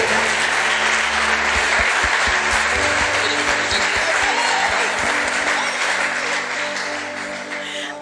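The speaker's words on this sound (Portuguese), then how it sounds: "Aplauda bem forte o Senhor" A church congregation applauding loudly for the Lord, a thick, sustained wash of clapping over low organ-like musical tones, tapering slightly at the end.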